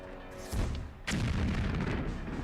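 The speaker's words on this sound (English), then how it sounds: "Grenade?" A grenade goes off in Jagged Alliance 2, two loud booming blasts in quick succession, the second a sharp crack that rolls into a heavy rumbling tail.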